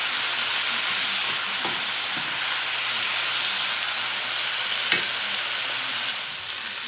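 A pork roast and its juice hiss and steam steadily in an electric pressure canner, a loud continuous sizzle with a few faint clinks, and no talking.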